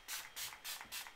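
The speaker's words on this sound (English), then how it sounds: "I'm going to spray this on my face" Four quick, close hissing pump sprays of Technic Illuminating Skin Mist with gold flakes are misted onto a face, each a short burst with a brief pause between them.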